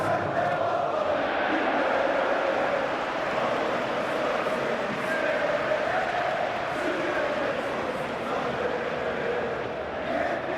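A capacity stadium crowd at a Galatasaray vs Liverpool Champions League football match roars and chants steadily, a dense sustained wall of noise with occasional whistles rising above it.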